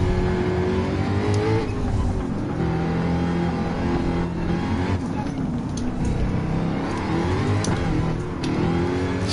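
Race car engine in Gran Turismo 7 during a Group 3 championship race, a continuous loud engine drone with shifting revs and faint tire noise, present throughout.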